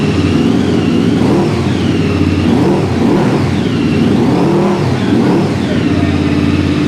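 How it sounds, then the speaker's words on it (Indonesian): A QJMotor SRV 600V motorcycle engine is revved hard at a dealer, its loud, steady roar rising and falling through several throttle blips close by, with no talk over it. "Gimana menurut sobat semua bunyi dari SRV 600V ini?"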